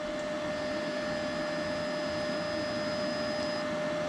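A YESWELDER MIG-250 PRO MIG welder runs its wire feed, giving a steady, close mechanical whir with a faint high tonal whine that holds unchanged for about four seconds, with no voices.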